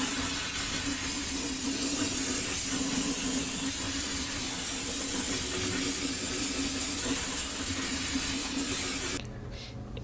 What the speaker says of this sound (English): Now grab some brake cleaner, put on some protective eyewear, and clean the old seal and around the differential itself.